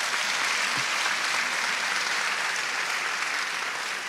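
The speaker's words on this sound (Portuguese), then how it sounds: "Você pode dar um forte aplauso para Jesus?" Church congregation applauding loudly and steadily, a dense wash of clapping that fills the room without pause.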